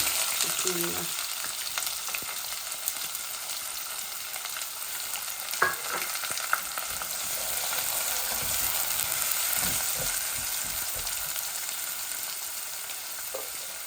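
Meat frying in a pan with ginger, garlic and onion, a steady loud sizzle throughout with occasional stirring scrapes and utensil clicks, no talking.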